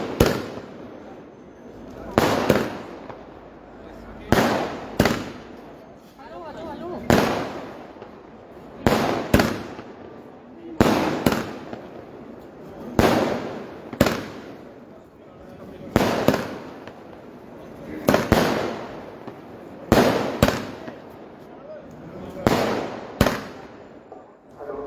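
Firecrackers burst repeatedly at an outdoor election victory celebration, sharp loud cracks arriving in irregular clusters every few seconds with echoing tails and voices in the background.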